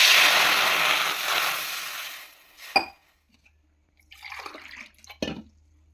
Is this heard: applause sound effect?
no